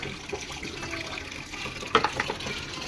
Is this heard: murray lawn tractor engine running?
no